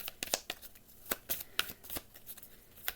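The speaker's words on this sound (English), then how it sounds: "So we're going to do some shuffling." Tarot cards being shuffled by hand, a close, quiet run of crisp riffling snaps and soft flicks in an uneven rhythm, with no voice over it.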